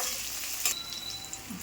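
Onions frying in a pan, a soft continuous sizzle with a sharper scrape or clatter of stirring partway through, close and fairly quiet, no talking.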